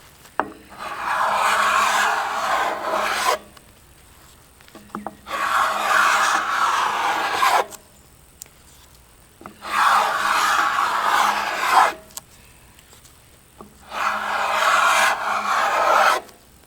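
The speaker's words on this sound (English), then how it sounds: "I might as well scrape it off while it's gummy" Gummy shellac is scraped off old door knobs in four long, rasping passes, each a few seconds of close, gritty scraping separated by quiet pauses.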